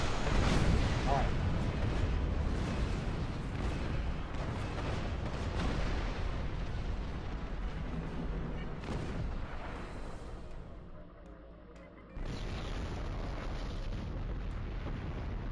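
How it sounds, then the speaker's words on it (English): A starship explodes in the space game Star Trek Online with a long, loud, roaring rumble of blasts that fades into a quieter lull, then a steady noise floor resumes. "And it's gone. That was a glorious explosion!"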